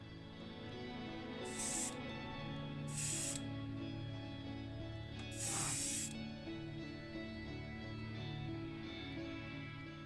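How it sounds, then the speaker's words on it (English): Three bursts of airbrush spraying black Vallejo paint onto a Matchbox Mercedes 230SL model car, each a sharp close hiss of a second or so, set against a steady background hum. "So this is direct to airbrush, this paint, although it clogs my airbrush up so fast."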